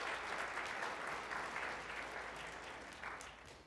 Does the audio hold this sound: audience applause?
yes